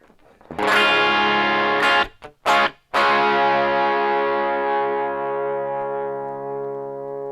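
An electric guitar with a Guyker LPBR humbucker pickup, played through overdrive effect pedals, rings out in distorted chords with a brief choppy break, then sustains and slowly decays.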